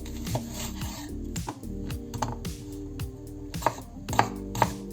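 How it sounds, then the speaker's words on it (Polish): A knife chops an onion on a cutting board in quick, uneven taps and soft scraping, close and moderately loud. "pokroimy sobie jedną małą cebulę"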